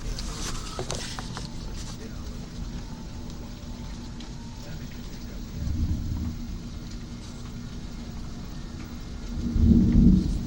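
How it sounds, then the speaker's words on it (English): Intermittent hail falls during a thunderstorm, a steady dense patter with low thunder rumbles swelling twice. "You can hear the hail. Intermittent hail."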